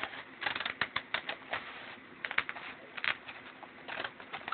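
Hair scissors slice straight down through a cardboard Pringles can, giving a quick run of sharp, crackling snips and crunches at an uneven rhythm, close by with no talking.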